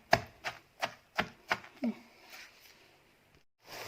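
Fried garlic is pounded in a mortar with about six evenly spaced, close thuds, then a pause and a softer bump at the end.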